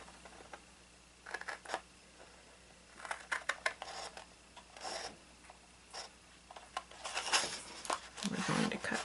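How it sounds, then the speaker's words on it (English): A knife slices diagonally from corner to corner through mat board for a shadow box frame, making scattered short scratchy rasps and scraping strokes at close range. "So cut from corner to corner on a diagonal, and then trim it up along the score line"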